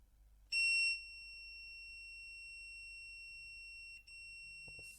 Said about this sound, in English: right now the injection tool is beeping.